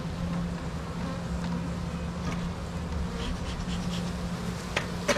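Honey bees hum around a hive in a dense, continuous buzz, close and steady throughout, with individual insects droning past now and then.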